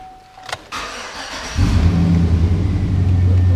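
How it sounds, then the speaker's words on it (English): A used GMC Sierra pickup engine cranks and starts, then settles into a deep, rumbling idle through a loud aftermarket exhaust, preceded by a few clicks and a brief tone. "A little bit of an aftermarket exhaust, gives a little bit of noise."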